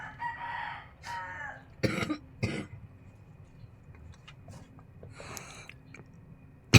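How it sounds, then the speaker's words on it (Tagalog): A few sharp coughs burst out in a quiet room, followed by fainter rustling and a final loud thump. "hindi ko na-control yung pag-ubo ko ngayon"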